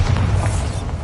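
Bombarda blasting spell in Hogwarts Legacy: one short, loud, dense boom with heavy low-end rumble and a burst of crackling noise, over in about a second, with nobody speaking.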